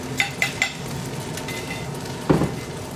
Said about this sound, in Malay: Banyaknya nasi goreng.